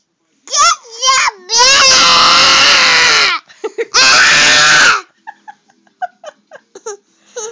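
An infant screams and cries loudly nearby in long, strained bursts with short gaps, followed by softer babbling sounds.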